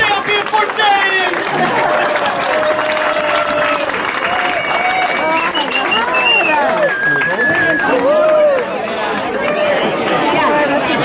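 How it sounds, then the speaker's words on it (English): An audience at a brewery's annual address applauds with sustained clapping mixed with cheering and loud crowd chatter, dense and close, with voices rising over the applause throughout. "Keep clapping as long as you want."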